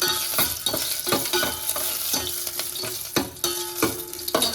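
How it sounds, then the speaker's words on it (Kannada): Tempering of curry leaves and chillies in coconut oil keeps frying, a steady sizzle broken by repeated scraping stirs against the pan, close up with no voices. "ಚೆನ್ನಾಗಿ ಒಗ್ಗರಣೆ ಹಾಕ್ತೀನಿ."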